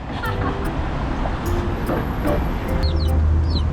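Small chicks chirp on a roadside in Guam. Brief high peeps come near the end of the clip, set against steady traffic noise and people talking.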